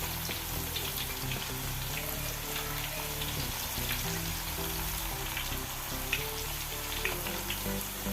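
Banana slices frying in a pan of hot oil, a steady dense sizzle and bubbling hiss that runs unbroken at an even level throughout, close by, with no voices over it.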